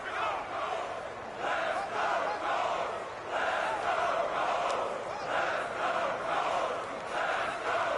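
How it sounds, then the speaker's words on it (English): Crowd in a Madden 19 football video game, Bengals versus Colts, a dense roaring cheer swelling in waves, loud and continuous across the stadium. "The crowd getting into it as we come up on a big third down."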